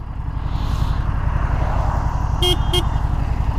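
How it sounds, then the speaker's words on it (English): Two short honks from a Harley-Davidson Street 750 motorcycle horn sound over a steady, loud engine rumble. "Let's see what the horn sounds like."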